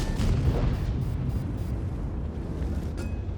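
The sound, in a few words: tank firing HE shell in video game World of Tanks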